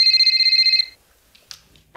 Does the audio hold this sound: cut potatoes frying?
no